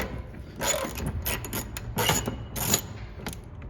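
Ratchet clicking on a 10 mm bolt securing the headlight assembly of a 2011-2013 Jeep Grand Cherokee, in a few short close bursts of rapid clicks with pauses between strokes.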